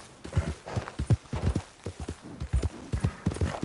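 Galloping horse hooves in Red Dead Redemption 2 pound out a steady, loud clip-clop rhythm up close, with no other sound standing out.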